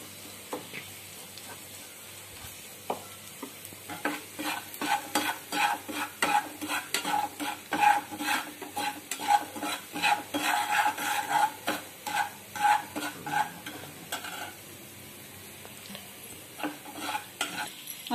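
Sago pearls are sautéed and stirred in a pan, a low sizzle under a long run of rhythmic scraping and stirring strokes that builds midway and then fades back to a quiet fry.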